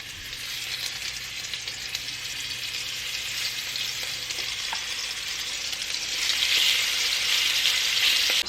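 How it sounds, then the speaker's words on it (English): Seasoned steak browning in a frying pan for beef pot pie, a steady dense sizzle that holds throughout and swells louder toward the end, close with no talk. "We're gonna go ahead and add it to the pan to brown it."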